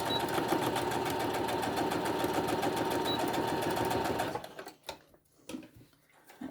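A sewing machine stitching the corners of a fabric face mask, running as a fast steady close whir for about four seconds, then stopping, followed by quiet handling clicks.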